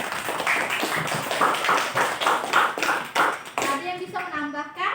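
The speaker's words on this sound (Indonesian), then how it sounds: "Tepuk tangan dulu." Children clap together in a classroom during a lesson, a dense burst of hand claps filling most of the moment before a voice begins speaking near the end.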